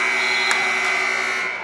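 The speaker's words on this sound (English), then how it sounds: "Buzzer sounds, the first quarter is over." A basketball game buzzer at a high school boys' game sounds the end of the first quarter, a loud, steady electronic tone held for well over a second, with faint gym noise behind it.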